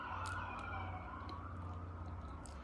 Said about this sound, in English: Apparently some fire trucks and ambulances as well are coming through